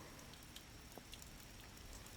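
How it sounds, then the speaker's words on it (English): Soft, steady rain patter, faint and continuous with a few scattered droplets standing out, gentle and ambient. "but for the quiet patter of the rain"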